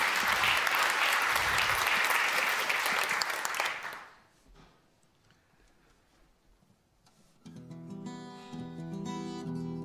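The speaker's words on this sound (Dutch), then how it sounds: "En geef hem vooral een warm applaus," A concert audience gives dense, loud applause for a musician for about four seconds. It fades into a quiet stretch before music with sustained tones comes in.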